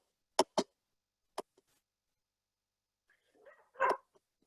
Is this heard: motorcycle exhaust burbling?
no